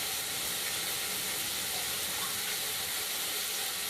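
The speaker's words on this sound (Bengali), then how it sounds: "এখন একটু এই যে সুন্দরভাবে ফ্রাই হয়ে যাচ্ছে সব কিছু।" Vegetables frying in a pan for noodles, a steady dense hiss and sizzle at even loudness throughout, with no voices over it.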